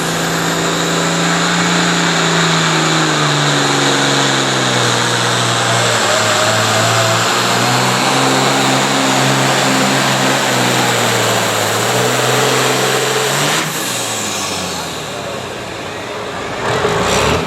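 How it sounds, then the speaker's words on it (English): A pulling tractor roars at a truck and tractor pull in Caldwell, Ohio, its engine loud and sustained with a steadily climbing pitch for most of the run before dropping off sharply near the end. "Strong running tractor"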